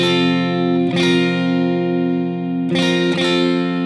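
Sustained acoustic guitar chord ringing out, with fresh strums near one second and again around three seconds, steady and close, no voices.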